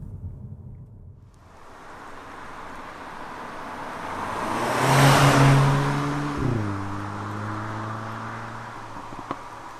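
A Cupra Formentor passes on the road, its engine note swelling as it nears, peaking loudly, then dropping in pitch and fading away with wind and road noise.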